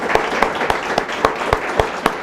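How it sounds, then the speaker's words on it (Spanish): An audience applauds a licenciado after his participation in a program on human rights in tax matters, with sparse, spaced claps landing about every quarter second over a steady crowd background, fairly near and moderately loud. "vamos a ofrecerle un aplauso, por favor, al licenciado, por su participación en el programa"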